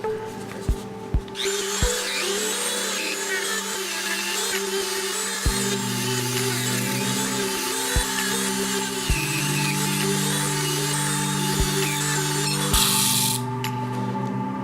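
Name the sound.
Dremel rotary tool working on a pewter play button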